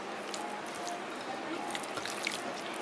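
Chicken pieces being hand-mixed with salt, lemon, chilli powder and turmeric, giving soft, wet squishing and dripping sounds that stay steady and fairly quiet throughout.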